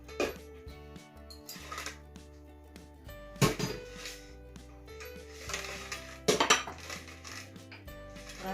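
An egg goes into a mixing bowl for madeleine batter, with sharp clinks and knocks of the bowl and utensils in a few bright bursts over steady background music.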